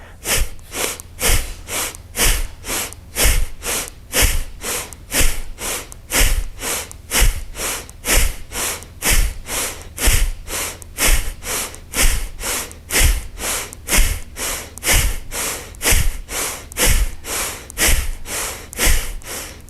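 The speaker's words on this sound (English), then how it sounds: "just begin that breath, pumping the air." Rapid, forceful pumping breaths through the nose in a yoga breathing exercise repeat in an even rhythm of sharp snort-like bursts, about two per second, loud and close throughout with no talk.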